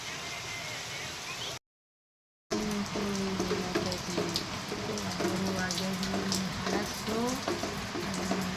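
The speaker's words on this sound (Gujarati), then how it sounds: "બહાર તો જોરદાર વરસાદ ચાલુ છે" A steady hiss of heavy, windy rain pattering on surfaces outside, broken by a brief dropout, with faint talking underneath.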